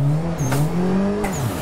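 A turbocharged car engine in a racing video game revs hard and climbs in pitch under acceleration, holding a steady tone before a brief dip and another rise, loud and close.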